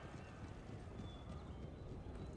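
Faint, rapid clip-clop of cavalry horse hooves sounds in the Empire Total War strategy game, a quick continuous drumming of many hoofbeats throughout.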